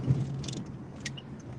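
A car's engine hum on a road at night, steady and low throughout, as a vehicle comes up behind and passes a slowly driving car that has pulled over.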